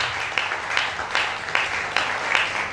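A church audience applauds steadily in a hall at an album event, the clapping sustained and fairly close with a few louder swells and no distinct cheering voices.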